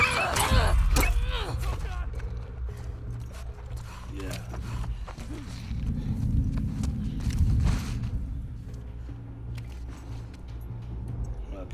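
A dog barks and yelps in the video game The Last of Us Part II, in short bursts over game ambience while someone talks throughout.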